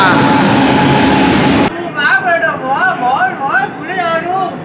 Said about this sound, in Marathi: सो ट्रेन आलेली आहे शंभूची गाडी आलेली आहे